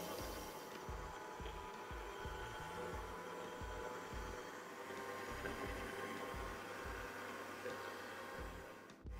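A stand mixer beats butter for shortbread in a bowl, a faint steady motor whir with a rhythmic low thumping pulse as the beater turns, running alone without talk.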